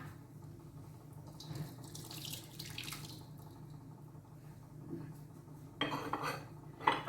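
Water sloshes and splashes out of a container with light clinks of kitchenware, ending in a louder pour and splash, as the first rinse water from lemongrass and pandan tea is poured off.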